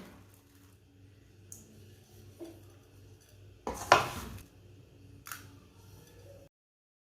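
Plate and utensils clatter while panjiri, a sweet Punjabi winter dish, is served onto a plate in a home kitchen: a few sparse clinks, one louder metallic clatter near the middle, then a final scrape, with no talking.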